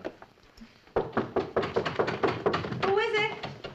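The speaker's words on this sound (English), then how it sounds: "This is Carlton at your door" A series of quick knocks on a door in a sitcom scene, about eight firm raps in a steady rhythm, followed by a voice speaking close by.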